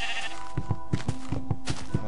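Sheep in the Minecraft video game bleating in a quick rhythmic series of short, close, clear bleats over a faint steady hum.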